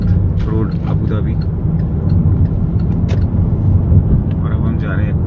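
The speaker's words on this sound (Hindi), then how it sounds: "देखिए दोनों तरफ हाईवे चल रहे हैं, हाईवेज ही है मेन।" Busy multi-lane highway traffic on Sheikh Zayed Road rolls past as a continuous low rumble and whoosh of cars, heard from inside a moving vehicle while someone talks over it.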